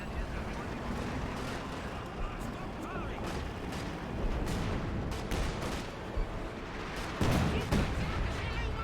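Distant booming artillery and gunfire from the World War II strategy game Company of Heroes 2, a steady rumble of shelling with scattered impacts beneath an excited voice narrating the battle.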